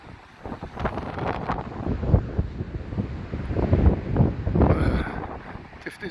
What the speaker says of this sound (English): There's a right nip in the wind as well this morning